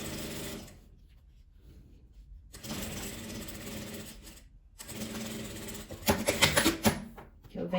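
A sewing machine stitches a patchwork fabric seam on a pouch, its motor whirring in runs separated by pauses, growing louder and more rattling toward the end, with someone talking over it.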